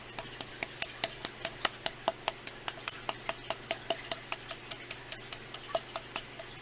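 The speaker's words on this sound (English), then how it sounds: "Alright, so I'm going to pounce it on. I've just got a stencil brush." A stencil brush pounced on a glass bottle to dab paint for a fall table decoration, giving steady, evenly spaced light taps, about four per second, close and crisp under a faint background hum.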